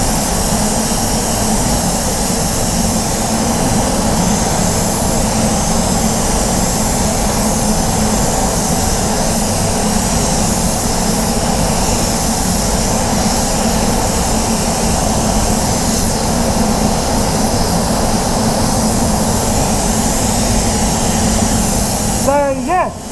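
A paint spray gun sprays glass coat onto a Jeep bonnet with the pressure cranked up, a loud, steady, close hiss of compressed air running unbroken, cutting off abruptly at the end.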